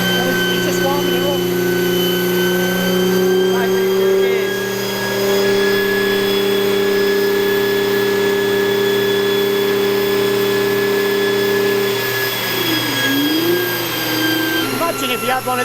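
A Stage 2 Nissan R35 GT-R warms up on a dyno: a loud, steady engine drone with a sustained low hum that dips and wavers near the end, someone talking briefly over it.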